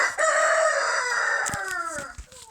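A rooster crows once, loud and close, a long strained call that trails off at the end.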